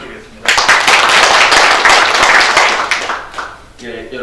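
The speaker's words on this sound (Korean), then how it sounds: "큰 박수로 부탁드리겠습니다." Crowd applause at a Democratic Party of Korea welcoming ceremony on card-fee reform, a burst of many hands clapping loudly after a brief spoken announcement, then fading as a voice resumes at the end.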